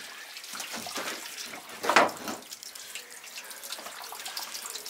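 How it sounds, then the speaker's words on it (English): A water tank being emptied over a van, a steady splashing flow with one louder gush partway through, fairly close and unaccompanied by talk. "So he's emptying the tank all over the van."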